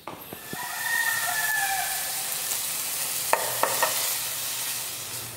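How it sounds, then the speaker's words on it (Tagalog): Pansit noodles with vegetables sauté in a pan, a soft steady sizzle with a few sharp utensil clicks, while a rooster crows faintly in the background. "Ito na yung niluluto kong pansit. Naigisa ko na."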